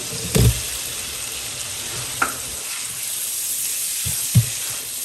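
Tomatoes are tipped into spices frying in a pan for a coral fish curry, giving a steady loud close sizzle throughout with a few brief thumps and knocks as pieces drop in.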